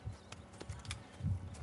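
Hooves of a big Shire horse clip-clop in a steady walking rhythm in Red Dead Redemption 2, a series of soft, moderately close thuds with no talking over them.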